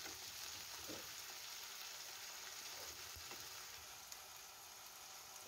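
Ginger and green chilli paste stir-fried in a pan with a splash of water for a Bengali fish-head muri ghonto, giving a steady, close sizzle with faint occasional stirring scrapes and no talking.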